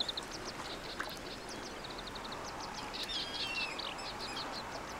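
Common moorhen chicks peep repeatedly in high, thin chirps across a lotus field wetland, a steady chorus of overlapping calls over a soft outdoor background, with a few sharper calls from a nearer bird.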